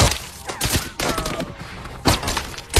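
Bursts of gunfire crackle and boom in repeated volleys roughly every half second to second in an action film shootout, loud and close, with impacts and echoes between shots.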